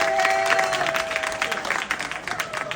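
An audience at a comedy sports match claps together in a steady burst of applause, dense patters of hands filling the room at a moderate, lively level.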